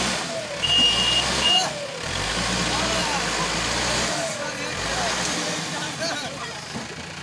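A tractor arriving to pull out a machine stuck deep in the ground, its engine rumbling steadily nearby with a brief high beep, while people talk over it throughout.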